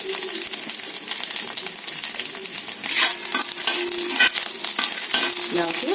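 Rice and ingredients with crushed garlic sizzle and fry in a hot pan, with a steady crackle and a few sharp stirring scrapes and clinks against the pan, close and loud.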